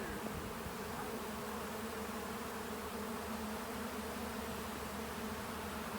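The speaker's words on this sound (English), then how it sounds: "One of our hives must have swarmed." Honeybee swarm from a hive that just swarmed, a dense steady buzzing of many bees flying all around outdoors, loud and continuous with no voices.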